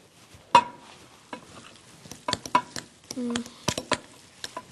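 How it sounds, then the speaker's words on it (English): A recipe mixture is stirred in a bowl, heard as soft scraping and tapping strokes in an irregular rhythm. The sounds are close but fairly quiet, with a brief squeak partway through. "You want to help me stir, Jody?"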